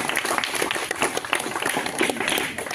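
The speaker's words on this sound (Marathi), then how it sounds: "गणपतीसाठी टाळ्या उद्या यांच्या" Children clap together in a classroom, giving quick uneven applause for a clay Ganpati model made during a school activity week, a busy patter of hands close by.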